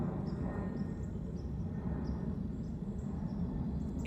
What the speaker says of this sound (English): Excuse that plane.